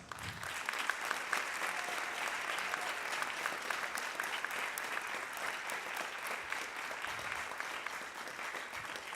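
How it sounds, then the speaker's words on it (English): Steady, moderately quiet applause from a school concert audience at a junior high spring band concert, honoring the band booster president, even and continuous throughout. "Give her a round of applause"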